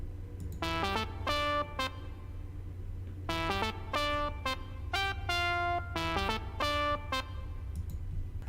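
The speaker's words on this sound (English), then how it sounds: "there's kind of this high octave one. It's a little bit more dinky than the other one, and it's just kind of this analog sounding synth" A dinky, high-octave analog-style synth plays a bright, buzzy melody of short plucked notes in small bursts with gaps between phrases, over a low steady hum, fairly quiet and alone.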